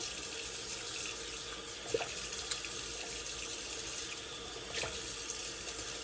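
Tap water running into a sink while a shaving brush is rinsed, a steady close hiss of flowing water with a few faint clicks and splashes.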